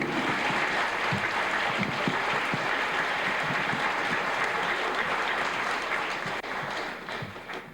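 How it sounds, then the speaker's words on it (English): Applause for a contestant at a fourth-grade spelling bee, a sustained round of clapping from a school audience that tapers off near the end. "Judges, let's give Kenny a round of applause."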